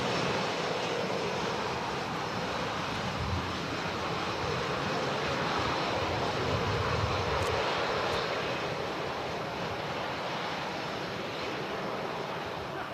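Jet aircraft landing at a windy Manchester Airport, a loud continuous broadband engine roar heard from the runway visitor park, mixed with gusting wind and holding steady throughout.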